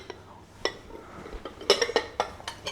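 Dishes, pots and cutlery clink and knock in a kitchen during washing up after baking cakes, a handful of sharp, close clatters at irregular intervals, with no talking.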